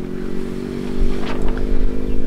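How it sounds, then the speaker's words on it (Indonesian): A motorcycle revs and passes on a road near a lakeside campground beside rice fields, a steady engine hum rising in loudness over a couple of seconds with faint clattering. "kadang kita masih bisa sering mendengar suara motor tuh"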